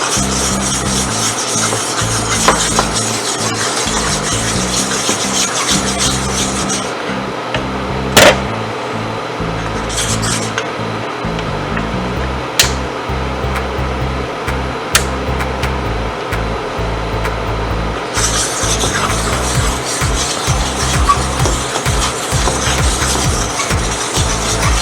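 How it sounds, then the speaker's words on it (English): Ingredients whisked in a bowl for a vegan Korean beefless chunks recipe, a steady rhythmic scraping and rubbing that runs on for many seconds with occasional sharper clinks. "we're going to give both of those a little whisk"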